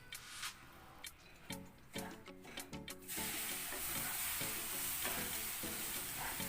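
Hot water being poured a little at a time into rava for kesari while it is stirred: a series of rhythmic scraping stirs, then a loud continuous hissing sizzle as the water hits the pan, with stirring still audible beneath it.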